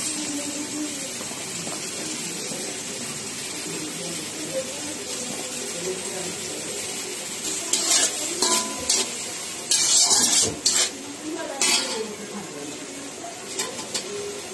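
Vegetables with ground pepper, salt, green chilli, onion and yellow and green capsicum stir-fried for Chinese-style vegetables, a continuous sizzle with bursts of louder scraping and tossing in the pan midway, plus soft background noise.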